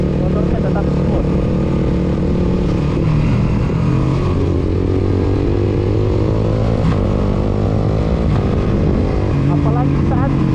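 A single-cylinder motorcycle fitted with a universal quickshifter rides along with a loud, continuous engine drone, its pitch rising and dipping through gear changes, while someone talks over it.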